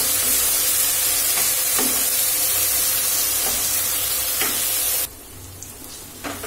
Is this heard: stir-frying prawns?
yes